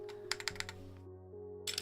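Keys on a GMMK Pro mechanical keyboard are pressed in a quick burst of faint, close clicks with a slight rattle, then a short pause before a few more strokes.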